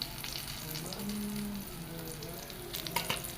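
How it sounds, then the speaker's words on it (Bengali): Food fries crisp and red-brown in hot oil in a pan, a steady close sizzle and crackle running throughout with a few brief louder pops near the end. "এই দেখো লাল লাল করে আমার ভাজা হয়ে গেছে, একদম মচমচ করে ভেজে নিয়েছি"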